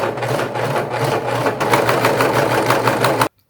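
An old, finicky serger runs a continuous test stitch with a steady, rapid mechanical whir and faint rhythmic chatter, loud and close, then cuts off abruptly near the end.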